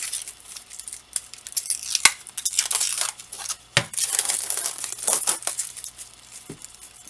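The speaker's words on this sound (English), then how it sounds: "So as you can see, it's pretty easy, pretty quick to peel it off." Protective plastic film peeling off the front of a vape stand, a close crackling, crinkling strip of sound with sharp snaps and uneven tearing bursts over several seconds, no speech.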